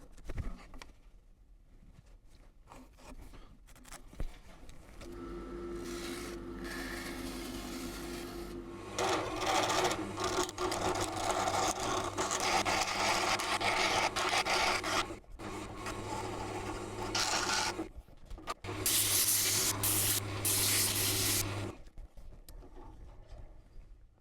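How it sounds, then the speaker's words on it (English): A wooden yarn winder part spins on a lathe, its motor a steady loud hum with a rising whir, while sandpaper rasps against the turning wood in a dense rough wash before the machine winds down. "So I gave that a quick sand in the direction of the grain"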